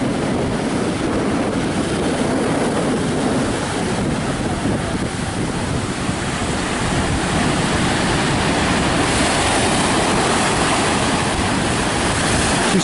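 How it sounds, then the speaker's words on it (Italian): Strong wind roars across the beach at Marina di Torre del Lago while rough sea waves crash and wash ashore, a loud, unbroken blustery rumble buffeting the microphone throughout. "c'è il vento forte, il mare mosso."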